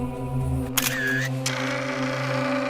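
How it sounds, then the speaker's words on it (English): A single camera shutter snaps, a quick mechanical click followed by a short whir, over a faint steady hum. "A local photographer managed to snap the shutter at the exact moment Innocent held up the head."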